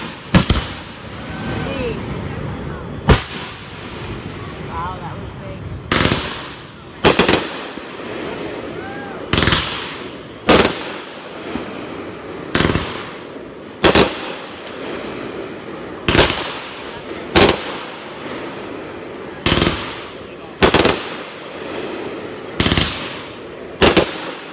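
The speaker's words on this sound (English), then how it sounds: "these are our fireworks show. We actually put this show on." Backyard Fourth of July fireworks show, a long run of loud sharp bangs spaced every second or two, each followed by a crackling tail, with people talking between blasts.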